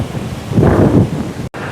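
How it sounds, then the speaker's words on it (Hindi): Strong wind buffeting the microphone in the Valley of Flowers, a loud, broad roaring gust that swells and fades, close and alone, ending in a brief dropout. "वाह, हवा चल रही है बहुत ज़बरदस्त"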